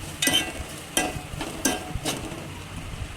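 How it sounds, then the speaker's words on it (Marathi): Fennel seeds and cardamom powder are sautéed in ghee with four distinct stirring scrapes spaced roughly evenly against a low, steady sizzle, close up with no talking. "त्याच तुपामध्ये आता आपण ही कच्ची बडीशेप आणि हे इलायचीची पूड ते आपण त्याच्यामध्ये टाकणार आहोत आणि त्याला व्यवस्थित परतून घेणार आहोत।"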